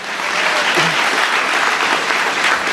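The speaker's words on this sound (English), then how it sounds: "Give yourselves a round of applause for coming out today during the lunch hour." Crowd applause at a lunch-hour campaign kick-off event, a dense, steady wash of clapping from a large gathering that fills the whole stretch at even loudness.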